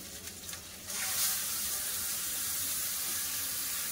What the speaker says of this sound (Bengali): আদা ভেজে নিয়েছে, এবার দিলাম টমেটো পেস্ট।